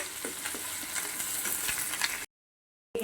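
Dried prawns sizzle loudly in hot oil with garlic for a pickle, a dense steady crackle with occasional stirring scrapes, then a sudden brief silence before the frying resumes.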